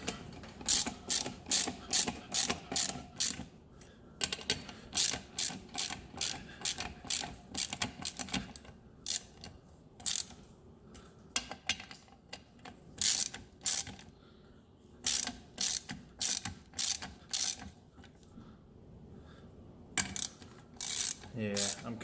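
A hand ratchet tightens the sprocket nuts on a BMW S1000RR during a 520 chain kit install, with close, crisp bursts of rapid clicking separated by short pauses, repeated many times.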